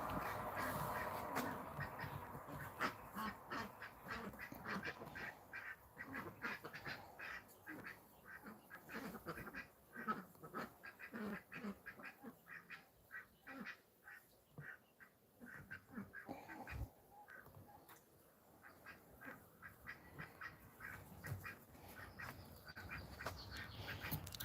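Ducks quack repeatedly on a farm, a busy run of raspy calls from several birds, mostly near and moderately loud, with only faint background talk.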